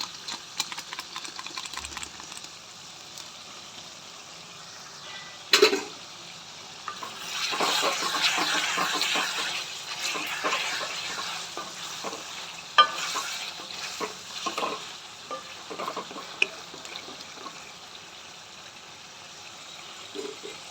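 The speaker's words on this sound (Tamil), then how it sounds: "இப்போ அதை நல்லா சாட் பண்ணிக்கலாம்." Cashew chicken masala with Kashmiri red chilli powder sautés in a pan, a steady sizzle running throughout with repeated spoon-stirring scrapes and clacks, close and fairly loud, no voices.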